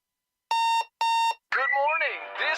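An alarm clock in a Hardee's radio ad sounds two loud electronic beeps, each about a third of a second long with a short gap between them. A voice then speaks over a music bed.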